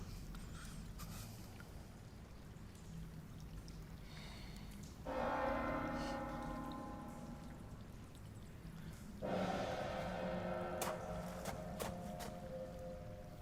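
A night watchman's hand gong rings out twice in the dark, each strike a bright metallic clang that hangs in a long, shimmering decay over a low background hum.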